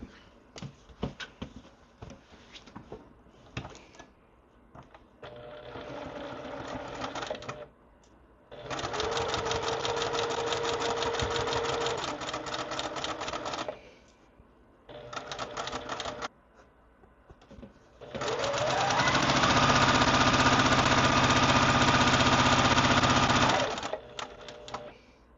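An electric sewing machine stitches a quilt block seam in two long runs, a rapid, steady mechanical whir, with shorter bursts and pauses before each run, near and clear with no talking.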